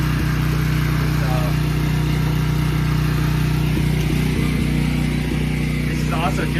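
A backup generator runs at a steady, loud drone with a constant low hum throughout, and voices can be heard over the engine noise.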